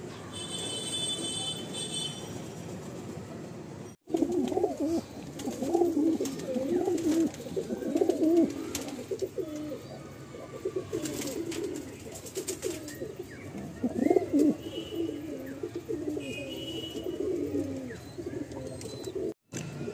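Mundi Sada pigeons coo in repeated low, throaty bursts, close by and indoors at a home loft, with soft rustling and handling noises between calls.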